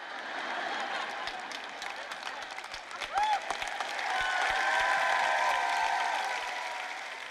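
An audience breaks into applause, a dense wash of clapping that swells and holds, with a few sharper individual claps and some crowd voices mixed in underneath.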